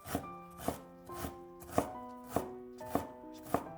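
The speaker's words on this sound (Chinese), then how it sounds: "再准备1块生姜，先切成薄片，再切成姜丝儿， 最后切成姜末。" A knife mincing ginger on a cutting board, seven crisp evenly spaced chops about half a second apart, close and clear with no talking.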